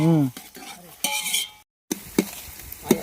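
Chillies fry in a pan at a village feast while a utensil stirs them in quick scraping strokes over a bright sizzle, with a brief silent break partway through.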